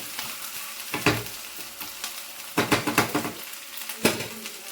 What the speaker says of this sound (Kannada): ಸೊ ಶುಂಠಿ ಬೆಳ್ಳುಳ್ಳಿ ಪೇಸ್ಟ್ನ ಹಾಕಿದ್ದೀನಿ. ಚೆನ್ನಾಗಿ ಫ್ರೈ ಆಗಲಿ ಇದು.